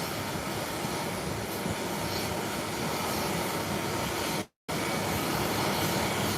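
Steady broadband roar of a British Airways Boeing 777 airliner arriving from London Heathrow via the Bahamas, sustained and fairly loud with a brief dropout near the end, no voices.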